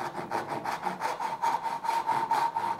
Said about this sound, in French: Vous êtes souple au niveau du poignet pour que la scie glisse facilement